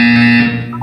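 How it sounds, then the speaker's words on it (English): Synthetic electronic buzzer tone from the Portal 2 video game, a steady loud harmonic drone lasting under a second and changing pitch slightly at the end. "You will hear a buzzer."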